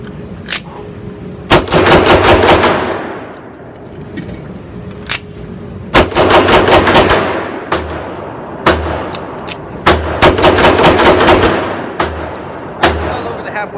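A Taurus PT1911 pistol fires loud, close shots during a 500-round torture test, in quick strings of several rounds separated by short pauses, with a few isolated single shots and small metallic clicks between strings.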